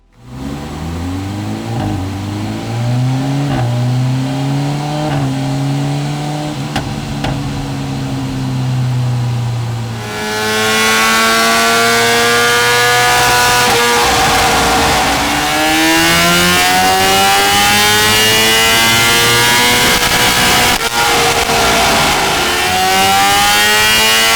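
A stock BMW M1000XR motorcycle fitted with an Akrapovic race exhaust revs on a test run, its engine climbing and falling loudly, then holding a harsher, louder, sustained high rev up close.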